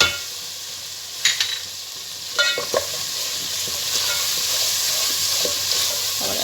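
Spices fry in oil with browned onion and garlic, a steady close sizzle broken by a few sharp stirring clinks and scrapes.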